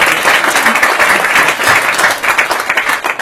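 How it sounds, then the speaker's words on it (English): An audience at a mentalism parlour show bursts into applause, a dense, loud wash of many hands clapping continuously with no talk over it. "A round of applause for Andrew"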